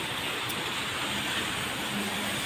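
Rain falls outdoors on a tropical island in Boracay, a steady, even wash of hiss with no breaks, fairly close and continuous throughout.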